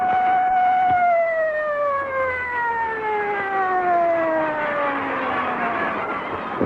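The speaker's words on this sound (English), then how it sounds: "The siren moaned to stillness, but there was no peace." A loud siren wails steadily, its pitch sliding slowly downward as it winds toward stillness, with a dense background roar beneath it and no voices.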